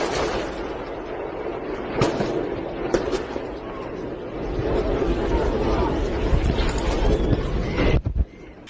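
Gunfire trades back and forth between Yemeni forces and Houthi fighters in the mountains of Dali Governorate, with scattered sharp cracks and distant booms over rumbling, wind-like noise, growing busier toward the end.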